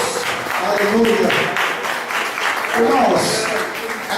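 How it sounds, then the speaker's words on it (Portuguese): Church congregation at a worship service clapping together, a steady wash of many hands at close range, with voices speaking and calling out over the applause. "Vamos aplaudir Jesus por esta vida"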